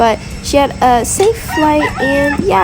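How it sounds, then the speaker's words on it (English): Roosters crow loudly and repeatedly inside a cargo plane, drawn-out calls overlapping one another in the foreground while a person speaks over them. "There's some roosters crowing in the background."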